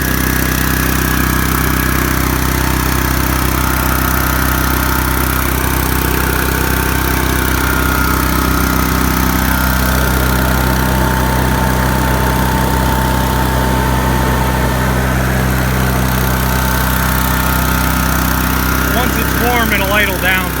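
An engine-driven welder runs at a steady idle while warming up, a loud continuous rumble throughout.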